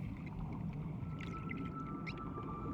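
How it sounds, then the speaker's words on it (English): Beluga whales in the Churchill River estuary let out faint high chirps and whistles over a murky underwater rumble, a few scattered calls heard at a distance. "belugas can only make barely audible sounds soon after birth"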